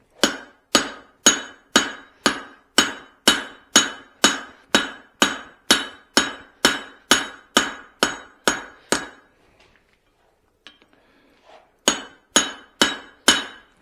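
Hot steel is hammered over a drift while forging a Swedish-style cross peen hammer: about eighteen loud, evenly spaced ringing blows, a short pause with faint clinks, then a few more strikes.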